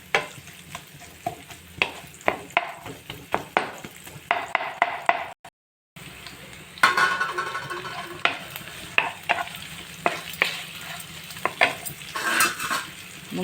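Mutton pieces fry and sizzle in a pan while a spoon stirs them, repeated scraping clinks against the metal over a steady hiss, with a brief silent break midway before the stirring resumes more vigorously.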